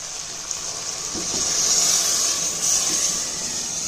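Water pours steadily into a pot of rice for vegetable biryani, a continuous filling hiss with faint clinks, close and fairly loud, no talk.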